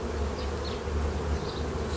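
Honey bees crowd at a hive entrance fitted with a robbing-prevention device, making a steady, close, dense buzzing hum with individual bees droning past and no voices.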